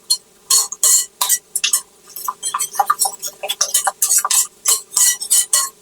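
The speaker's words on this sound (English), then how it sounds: "Get that whisked up." A whisk beats a quiche mixture in a bowl, fast rhythmic clinks and scrapes of metal against the sides, close and bright, pausing briefly before picking back up.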